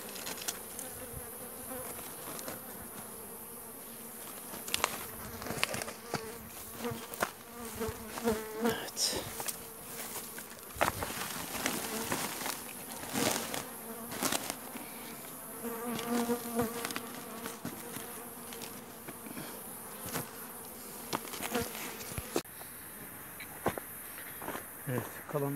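Honeybees buzzing steadily around a hive during colony work, a dense continuous hum close by, with handling knocks and thuds throughout and someone talking at times.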